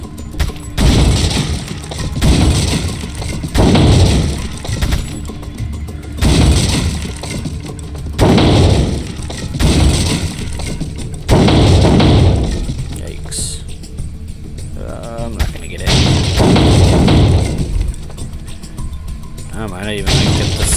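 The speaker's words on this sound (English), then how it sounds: "While we're shooting Ashley, because I don't want to move." Gunfire at the shooting range in Resident Evil 4 comes in repeated loud bursts spaced a few seconds apart, with sharp cracks and glass-like breaking between them and a voice talking over parts.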